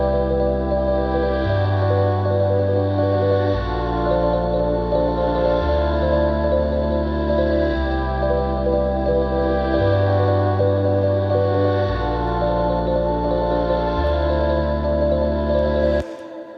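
Sustained ambient synth pad chord whose harmony shifts in the low register, the bass notes stepping every two seconds or so beneath a steady upper cluster, loud, smooth and unbroken for about sixteen seconds before cutting off.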